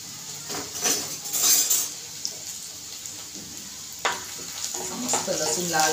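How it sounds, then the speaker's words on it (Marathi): Plenty of garlic hits hot oil for a dal palak tadka and sizzles and crackles steadily up close, with brief louder bursts and some stirring clatter. "मी ना लसूण टाकते. मला लसूण भरपूर टाकायचा व्यवस्थित."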